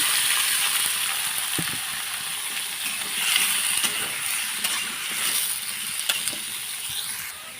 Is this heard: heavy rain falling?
no